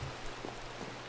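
Rain falls in the blocky video game Minecraft, a soft, steady patter of drops that is faint and brief with no voices over it.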